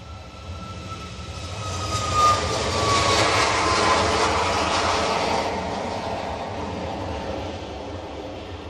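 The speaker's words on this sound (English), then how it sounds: "This one is a Palma de Mallorca 737 MAX 8." A Boeing 737 MAX 8 airliner from Palma de Mallorca lines up at Bristol Airport, its engines giving a steady, broad roar that swells and holds at a moderate distance, with no voices.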